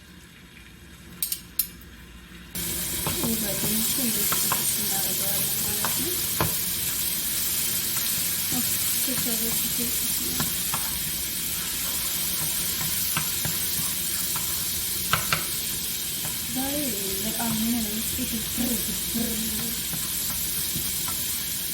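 Garlic sizzles loudly in butter in a pan for chicken broth, a steady bright frying hiss that begins abruptly and runs throughout, with spoon scrapes and stirring and a voice speaking intermittently over it.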